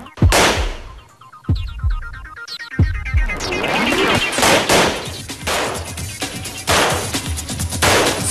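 Gunfire at an indoor shooting range during a competition with house guns, with a string of loud, close sharp shots in irregular succession, some rapid, echoing over a steady background hum.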